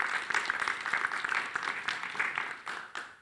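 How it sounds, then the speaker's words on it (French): An audience claps after a presentation at an in-person and remote business event, a moderate, fairly distant patter of many hands with a few sharper individual claps standing out, no voices over it. "Je pense qu'on peut t'applaudir aussi."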